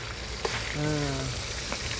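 Blended sambal paste sizzles as it goes into a hot wok. The hiss is soft and steady, and a brief tonal sound rises over it in the middle.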